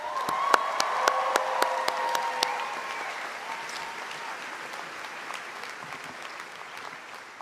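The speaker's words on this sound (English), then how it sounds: "Can we give another round of applause, please?" A round of applause at a college commencement ceremony for the graduating class of 2023, with crisp nearby claps early on over a broad crowd clapping that gradually softens, mixed with some tonal sound at the start.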